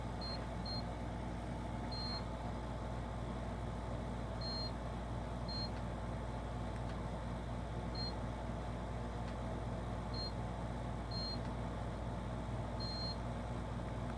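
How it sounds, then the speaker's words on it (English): Short high-pitched electronic beeps from the small piezoelectric buzzer on a Pi1541 disk drive emulator hooked to a Commodore 64, sounding in irregular single and double chirps at low volume over a steady background hum. "Now you might have heard the beeping in the background. That is the little piezoelectric buzzer on this thing."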